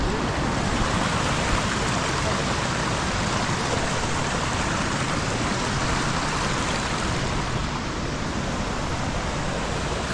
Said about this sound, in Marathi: पूर्ण शांतता आणि फक्त नदीचा आवाज.